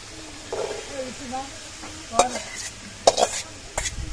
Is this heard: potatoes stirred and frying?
yes